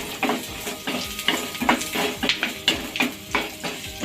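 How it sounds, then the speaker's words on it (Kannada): Onion frying in oil in a pan for egg gravy, sizzling under repeated rhythmic scrapes and taps of a spoon stirring against the pan, close and fairly loud. "ಅದಕ್ಕೆ ಈರುಳ್ಳಿ ಹಾಕೋತಾ ಇದ್ದೀನಿ."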